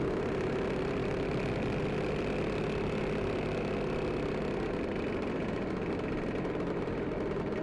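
A Vespa scooter engine runs close by on a ride to Cukul, Pangalengan, with a steady, continuous drone and no speech.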